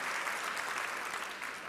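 Audience applause at an awards ceremony honoring Cillian Murphy, a dense, steady wash of clapping from many hands, filling the short moment with no voice over it.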